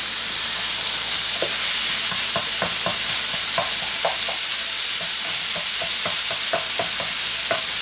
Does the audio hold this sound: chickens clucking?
no